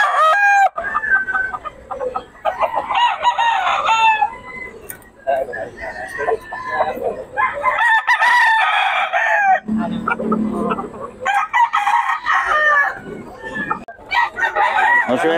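Several gamefowl roosters crowing repeatedly and overlapping, loud and close, with clucking between crows and people talking among them at a rooster sale.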